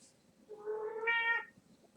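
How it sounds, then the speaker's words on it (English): A cat in the next room gives a single faint, drawn-out meow that rises in pitch, heard alone over a quiet background. "My cat meowing in the next room."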